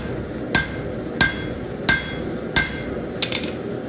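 Blacksmith hammering a taper on the edge of an anvil, four evenly spaced ringing metallic blows close by, then a quicker pair of lighter taps.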